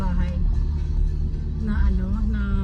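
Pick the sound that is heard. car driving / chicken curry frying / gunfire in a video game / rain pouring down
car driving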